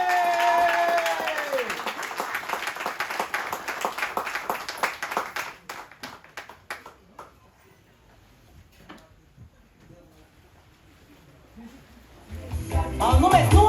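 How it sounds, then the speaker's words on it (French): Applause at a political list presentation in Saint-Louis, opening with dense crowd clapping over a voice and tones, thinning into scattered individual claps and near silence, before louder crowd noise and music-like sound return at the end. "Tonnerre d'applaudissements."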